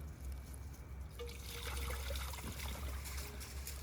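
Water trickles and pours into a pot hanging on a hook over a campfire outdoors, a close, fairly quiet stream of liquid that starts partway in and continues to the end.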